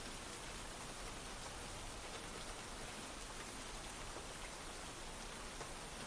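Steady rain pours down in a dense, even hiss of drops hitting surfaces, constant and enveloping with no pauses and no voices.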